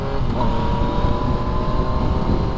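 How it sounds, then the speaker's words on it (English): A Yamaha MT-09 three-cylinder motorcycle fitted with an M4 exhaust runs on the road, a steady, throaty engine drone mixed with buffeting wind noise on the microphone. "the exhaust that this bike has, the M4, makes it sound like a liter bike"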